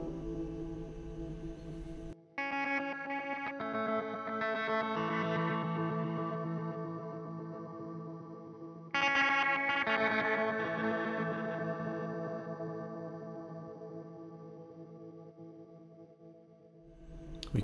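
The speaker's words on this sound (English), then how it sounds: "we're going to add some pitch on" An electric guitar runs through a Meris LVX delay pedal with a pitch-shifting effect, sustained chords ringing with shimmering harmonized overtones and echoes, struck twice and left to decay alone.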